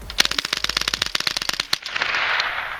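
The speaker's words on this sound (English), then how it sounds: "if you're looking to make a big impression and a big noise, the Ruger 10/22 Gatling gun kit is the way to go." Ruger 10/22 Gatling gun kit firing a rapid burst of about thirty sharp, loud cracks in quick succession, then stopping abruptly and leaving a hissy echoing tail.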